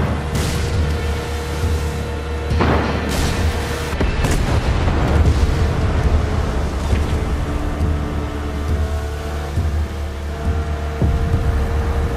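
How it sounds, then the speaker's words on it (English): Fireworks explode in Far Cry 6, a series of booms and crackling bursts over a constant low rumble for about twelve seconds, some of them close and sharp and others more distant. "Check out the fireworks!"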